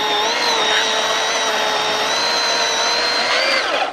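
An electric chainsaw runs continuously while cutting through a downed tree, giving a steady high motor whine that holds at full speed close by, with no talking.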